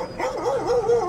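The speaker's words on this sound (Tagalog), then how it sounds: "Nagyabaw-yabaw pa yung aso, no?" A dog gives a short whining, wavering bark-like cry, close and fairly loud, heard alone for about a second.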